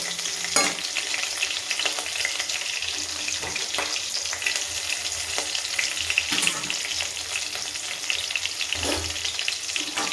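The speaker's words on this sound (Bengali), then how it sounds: "কাঁচা লঙ্কা আর রসুনটা একটু ভাজা ভাজা হোক।" Green chillies and garlic frying in hot oil in a kadai, a steady close sizzle with occasional spatter and stirring clinks, continuous and fairly loud with no talk.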